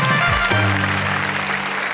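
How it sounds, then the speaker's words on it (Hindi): Applause from a crowd fills the moment, a dense wash of clapping over music with a low sustained tone underneath. "एक बार जोरदार तालियां"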